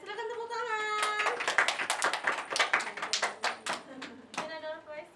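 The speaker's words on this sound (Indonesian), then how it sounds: "silakan tepuk tangan" A small group of people claps together after a class presentation, a short burst of quick, light clapping beneath a sustained voice at the start and more voices near the end.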